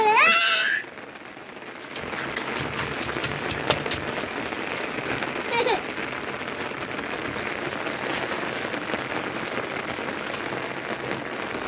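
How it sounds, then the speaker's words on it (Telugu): Steady rain falls over a village on a wet day, a dense, even hiss that holds across the whole stretch after a brief louder opening, with no talking over it. "ఇప్పటికైతే కొంచెం నిదానమైంది వాన."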